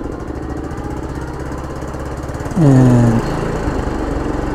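A motorcycle idles steadily, then its engine rises in a short, loud rev as the throttle is twisted, with the pitch climbing and falling back to idle within about half a second.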